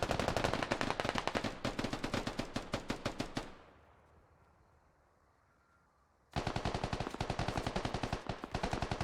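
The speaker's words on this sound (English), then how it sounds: "You hear AKs all around him." Dense, rapid bursts of AK rifle fire crackle in the Squad video game, a long rattling volley that breaks off into a quiet gap of several seconds before another sustained burst of automatic shots resumes.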